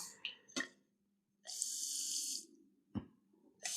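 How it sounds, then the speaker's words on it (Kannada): A small submersible water pump from a school electronics project with a DC motor gushes water in a single burst of about a second, framed by a few faint clicks and otherwise quiet surroundings. "ಕಾಣಿಸ್ತಿದ್ಯಾ ನೀರು ಹೆಂಗೆ ಹೋಗ್ತೈತೆ ಸ್ನೇಹಿತರೆ? ಸಮ್ಮರ್ಸಬಲ್ ಪಂಪು."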